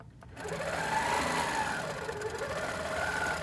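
A sewing machine runs steadily while stitching a quilt, a continuous close mechanical whir and rapid needle chatter at an even speed throughout, with no talking.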